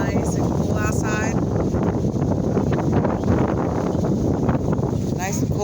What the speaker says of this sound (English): Nice and cool and windy.